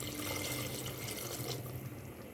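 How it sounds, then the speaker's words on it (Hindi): Water splashes and pours steadily into a cooking pot of arvi gosht, a short, close rush of liquid that tapers off near the end. "अब हम इस दौरान इसमें पानी शामिल कर लेंगे।"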